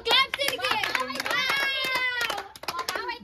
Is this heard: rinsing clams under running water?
no